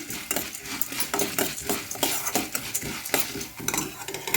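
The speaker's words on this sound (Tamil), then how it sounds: "நல்லா பொன்னிறமாக வறுக்கணுங்க" Ingredients being roasted until golden in a pan while a pearl millet chutney is made, with loud, busy, rhythmic scraping and stirring strokes over a faint sizzle, close up and without speech.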